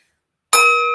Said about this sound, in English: I'm going to use this bell to ring it so that you can hear when the start is and when the end is.